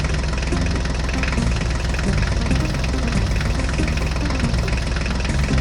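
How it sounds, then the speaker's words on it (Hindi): A tractor engine idles with a steady, low, throbbing chug, close and continuous, with no speech over it. "ये देखो बच्चों, ट्रैक्टर गाड़ी रेडी हो गई।"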